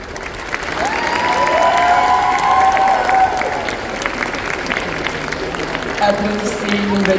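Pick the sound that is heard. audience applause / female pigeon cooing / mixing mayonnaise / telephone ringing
audience applause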